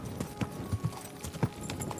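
Horse hooves clip-clop at a walk in Kingdom Come: Deliverance II, an uneven run of soft close knocks with some faint background ambience.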